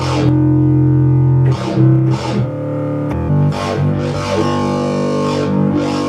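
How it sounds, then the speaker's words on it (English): A heavy, buzzy synthwave synthesizer bass line plays alone, sustained notes with a few short gaps and re-attacks, loud and upfront. "Bass typically sounds like this."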